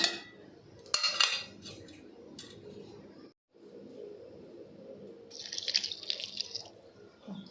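Water is poured into a mixer grinder jar holding mint, coriander and curry leaves for green buttermilk. Light clinks of the jar and utensils come first, then a brief, bright trickle of pouring near the end.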